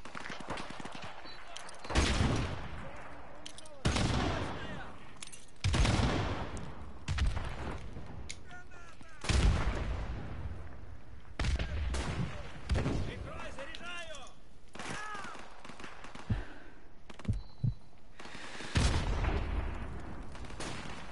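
Loud bursts of gunfire ring out in Call of Duty Modern Warfare Remastered, with distinct shots and short volleys spaced every couple of seconds across the stretch and someone talking in between.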